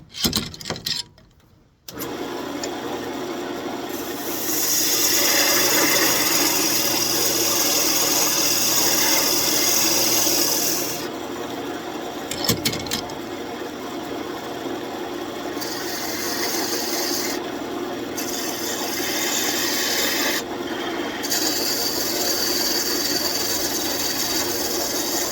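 Birch is being cut on a wood lathe while a container is turned, a loud continuous close-up scraping rasp over the steady hum of the spinning machine, with the cutting briefly letting up at a few points.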